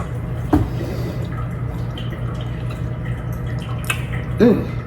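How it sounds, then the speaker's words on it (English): A coffee maker bubbles and gurgles while brewing in a home kitchen, faint irregular burbles and drips over a low hum, with a couple of louder gurgles. "If you all hear some bubbling in the background, that's my coffee maker."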